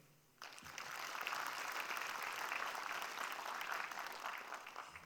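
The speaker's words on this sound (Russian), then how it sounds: "Аплодисменты." Audience applause at an antifascist forum in Yakutia breaks out sharply and continues as steady, dense clapping from a full hall, with no talk over it.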